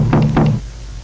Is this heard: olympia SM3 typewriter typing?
no